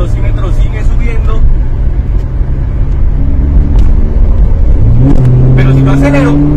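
A car engine revs while accelerating through the gears, a loud close rumble inside the car that rises in pitch, with someone talking throughout.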